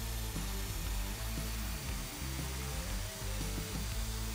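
A power drill whirs steadily and loudly at close range, boring a pocket hole in wood through a Kreg pocket hole jig, its motor pitch dipping briefly as the bit bites, running continuously throughout.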